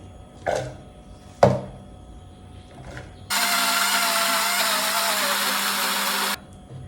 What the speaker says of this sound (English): Now to blend the onions, put oil inside so that the thing won't get stuck together.